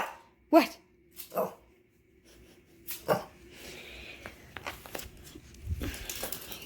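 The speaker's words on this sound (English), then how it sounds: "Excuse my dog in the background." A playful puppy barks in a gecko room, a few sharp, moderately loud barks spaced out among quiet rustling and breathing, with a brief spoken word.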